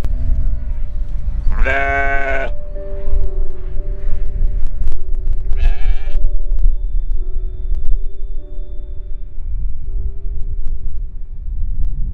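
Sheep and goats on a farm in freezing weather bleat twice, a loud close cry and a shorter one a few seconds later, over steady wind rumble and low background noise.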